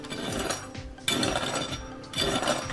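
Crispy roast pork skin crackles and crunches in Asian-style cooking, a dense scratchy rustle in three bursts, close and fairly quiet with no talk.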